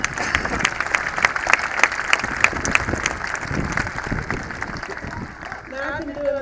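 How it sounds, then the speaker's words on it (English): Audience applause for Senator Boxer and Congresswoman Davis at a Camp Pendleton military event, a dense, sustained wash of clapping from a large crowd that carries steadily throughout, easing slightly near the end. "let's give them another round of applause"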